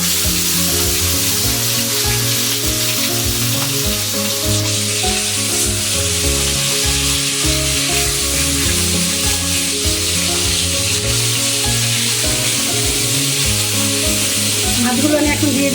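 Marinated tilapia pieces fry in hot oil in a pan with a loud, continuous close sizzle and crackle, while steady background music plays underneath throughout.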